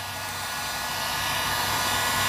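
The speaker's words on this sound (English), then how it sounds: "We want to take the heat gun," Heat gun blowing hot air onto a fogged car headlight, a continuous loud close whooshing hiss that builds slightly and holds steady, with no talking.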